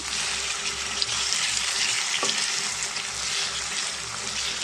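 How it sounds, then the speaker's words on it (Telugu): Chicken fries in onion, ginger and garlic paste with a continuous bright sizzle, steady and close, with a faint clink partway through. "ఇప్పుడు దీంట్లో మనం క్లీన్ చేసుకున్న చికెన్ అయితే వేసేసుకున్నామండి చికెన్ కూడా బాగా ఫ్రై అవ్వాలండి"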